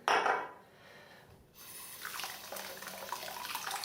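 Water runs from a tap over a shaving brush being rinsed in a sink, a steady splashing hiss that swells after a brief quieter pause, close and fairly loud with no talking.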